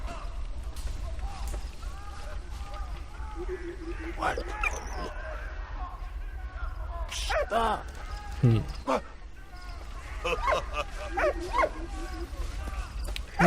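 A dog barks and yips in the World War I puzzle adventure game Valiant Hearts, short bursts scattered through the clip over game music while someone talks throughout.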